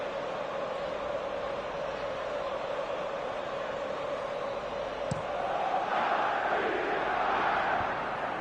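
A large stadium crowd in a football video game roars and cheers in a continuous wash of noise, swelling slightly near the end with a brief sharp burst, steady and loud throughout.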